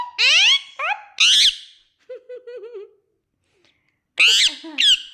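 A parrot gives loud, harsh squawks and shrill whistled calls in short bursts, with a quieter warbling stretch in the middle and a pause before two final squawks.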